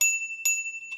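A bicycle bell on a Himiway D5 2.0 fat-tire e-bike rings twice in crisp, bright dings about half a second apart, followed by a fainter third ring, close and alone.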